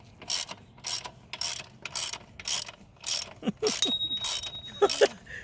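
A ratchet wrench clicks in steady bursts while turning a bolt during a motorcycle lowering kit install, with fast repeated pawl ratcheting, a few metallic pings and scrapes near the end, close and distinct.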